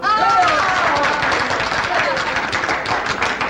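A crowd claps in a steady, loud wash of applause while someone speaks over it.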